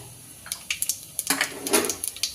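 A cooking pot is set down and handled before oil and spices go in, several short, close metallic clanks and knocks scattered across a couple of seconds.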